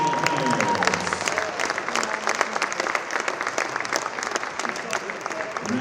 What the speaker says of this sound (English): Let's have one more round of applause for our senior basketball players